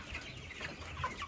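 Chickens cluck softly in a backyard flock of broilers and egg-breed birds, a steady low murmur of calls with a few brighter clucks rising now and then, no talk over them.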